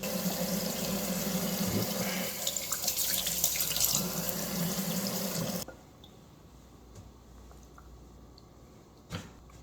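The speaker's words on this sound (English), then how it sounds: "But we'll give that a quick rinse." Kitchen tap running water over beef ribs being rinsed, a steady close splashing rush that cuts off abruptly partway, leaving quiet room tone and a single faint clunk.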